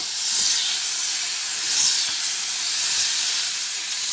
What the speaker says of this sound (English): we've got this pan on a medium heat, and we'll just pop a little butter in there